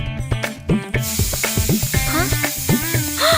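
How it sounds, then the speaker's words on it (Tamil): A pressure cooker left on a home stove hisses in a continuous high spray of steam from about one second on, beneath a busy, music-backed scene with voices talking. "ஐயோ குக்கர் மறந்துட்டேங்க"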